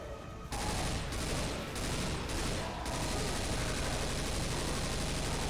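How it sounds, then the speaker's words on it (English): A continuous, dense fusillade of explosive rounds dumped from a magazine into a tank in a video game, a loud, unbroken roar of rapid shots with brief dips, alone without talk. "Mag dump of explosive rounds into the tank does nothing."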